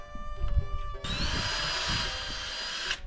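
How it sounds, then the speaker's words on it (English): A power drill spins a Forstner bit into the back side of wooden board-and-batten trim, cutting a relief pocket; a short whine followed by a steady, loud, close drilling drone with bright harmonic tones, no talk. "with my Forstner bits, I can just make a quick relief in the back side of the trim"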